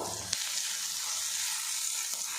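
Onion fries in a pan with red chili powder added, giving a continuous close sizzle with a faint knock near the start and no voices.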